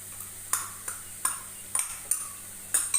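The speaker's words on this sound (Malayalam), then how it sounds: "ഇപ്പോൾ അത് ഇളക്കിക്കൊണ്ടിരിക്കുകയാണ്" A utensil stirs onions with coriander, turmeric and chili powder in a wok-like pan, giving irregular sharp scrapes and taps against the metal over a soft sizzle, close and clear.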